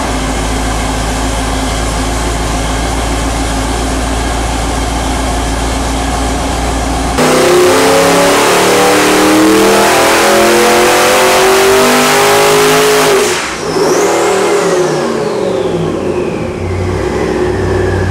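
A 1500 hp twin-turbo 441 ci small-block Chevy engine in a 1958 Buick idles with a loud lumpy drone, then revs hard for several seconds and drops back as the revs fall away.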